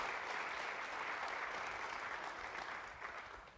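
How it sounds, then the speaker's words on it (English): A lecture audience breaks into steady applause, a soft, even wash of many hands clapping at a distance that holds for a few seconds and then begins to fade. "would you please give them a round of applause just for being here"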